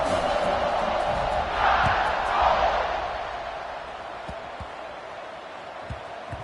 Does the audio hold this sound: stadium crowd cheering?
yes